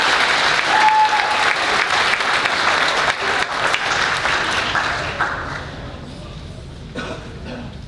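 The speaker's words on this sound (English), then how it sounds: "Yeah, you can applaud for these." Audience at a spring concert award ceremony applauds steadily in a dense, continuous clapping that fills the room before thinning and tapering toward the end.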